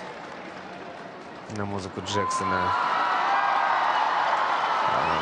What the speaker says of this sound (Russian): как уже все начали аплодировать